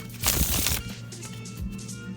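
A stiff new deck of traditional Bicycle-style playing cards is riffle shuffled close up, giving a brief dense burst of fluttering card riffle followed by quieter handling and squaring of the deck.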